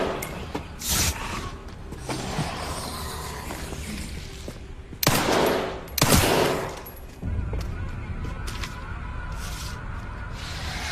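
Rapid bursts of gunfire from the video game Resident Evil Requiem, several loud clusters of shots with sharp reports around the middle, set over a steady din of in-game ambience.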